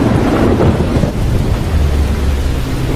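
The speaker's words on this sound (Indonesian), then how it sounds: "ketika melihat badai besar mendekat" Big storm approaching in a film, with heavy rain pouring and thunder rumbling continuously throughout, loud and dense with no voices.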